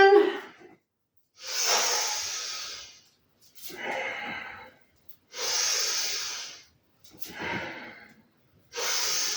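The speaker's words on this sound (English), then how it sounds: "Breathing in and breathing out." Slow, deep yoga breathing during a gentle flow session, with long inhales and exhales alternating in an even rhythm separated by short silences, close and clear with no talking.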